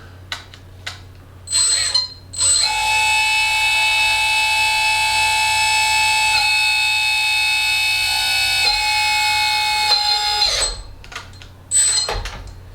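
Small electric hydraulic pump of a 1/14 scale RC hydraulic dump truck raising the box, a steady high whine lasting about eight seconds with slight pitch steps, close and loud, framed by short clicks before and after.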